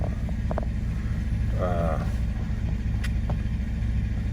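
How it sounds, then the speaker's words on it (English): A 2014 Chevrolet Silverado with a 5.3 engine idles steadily after a thermostat replacement, a low continuous rumble close by, with a few faint clicks and brief background noises over it. "truck's running now"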